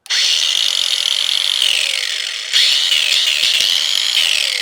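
A Ryobi 18v ONE+ cordless angle grinder spins freely at full speed with a steady, high whine, alone and close, with a brief dip and surge of pitch midway.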